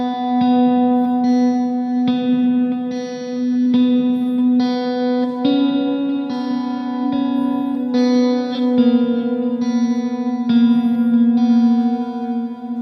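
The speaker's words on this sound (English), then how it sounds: "there's a clean guitar part that kind of mimics the melody a little bit." Clean electric guitar through a Helix-style effects chain playing a melodic lead on two strings, a fretted G-string note against a ringing open B, steady plucked notes washed in echo and reverb, close and sustained.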